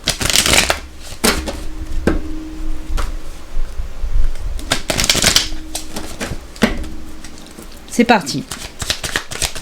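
Tarot cards being shuffled by hand in repeated riffling bursts, close and crisp, with someone speaking French briefly between them.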